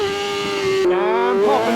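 A vehicle at about 50 accelerates hard into a wheelie, its high, steady engine whine breaking into a sudden shift and then climbing again, loud and close.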